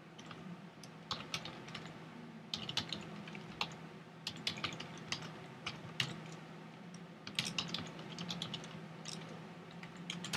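Steady typing on a computer keyboard while writing PHP code with inline styling, with irregular bursts of clicky keystrokes and brief pauses over a low room hum.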